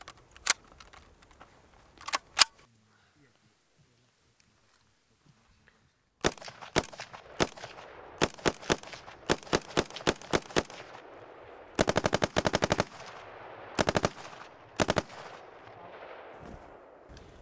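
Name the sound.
SA80 rifle firing single shots and automatic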